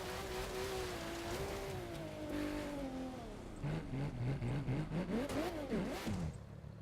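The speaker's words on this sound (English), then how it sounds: "It sounds like a Porsche" Porsche rallycross car engine in the racing game The Crew 2, revving and shifting with rising and falling pitch, a steady droning tone that climbs through gears.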